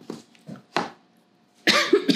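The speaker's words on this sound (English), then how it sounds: "Excuse me as I cough." A single cough from an adult taking part in a children's painting lesson, set among bursts of nearby talk, with a couple of short vocal sounds around it and a quiet pause before the louder cough.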